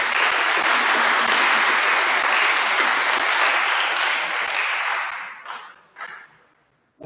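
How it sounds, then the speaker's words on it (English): Loud, dense applause from a crowd at a school athletic awards ceremony, sustained for about five seconds before tapering off into a few scattered final claps and near silence. "So please give those guys a round of applause."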